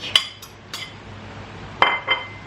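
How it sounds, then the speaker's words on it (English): Eggs going into a milk and olive oil mixture for a savoury cake: a few light glassy clinks and taps of a bowl and utensil, quiet, with no talk. "And then I add my eggs to my milk"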